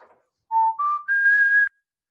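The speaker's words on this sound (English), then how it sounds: "I'm starting to whistle the theme song" A person whistles the theme from the original Alien movie, a short rising phrase of three clear notes ending on a longer held tone, close and alone in silence.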